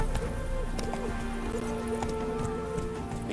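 A horse gallops in The Witcher 3 video game, quick rhythmic hoof clip-clops under a busy layer of background game sounds, fairly close and continuous over a few seconds.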